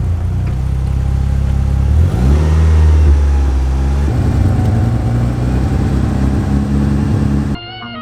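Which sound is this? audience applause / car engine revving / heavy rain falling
car engine revving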